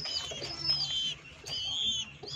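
A pigeon indoors in a room gives a few close coos and chirpy calls in short bursts against a quiet background, with no speech.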